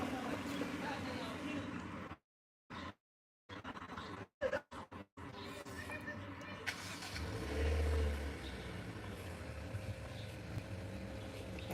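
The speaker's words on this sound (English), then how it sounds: "the Maserati truck sound like you got a V8 in there" A Maserati SUV with a V8 engine revs and swells to a deep, loud rumble partway through, amid a broken, noisy stretch with voices talking.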